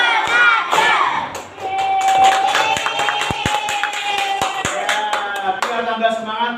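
Children in an Indonesian primary classroom chant loudly and clap together in a rhythmic clap routine. Sharp, close claps land in short patterned bursts between shouted voices.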